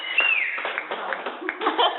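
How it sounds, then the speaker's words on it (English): Applause at a city council meeting, a brief patter of scattered hand claps with light laughter mixed in, moderately loud and thin-sounding. "Let the record show there was a bunch of applause"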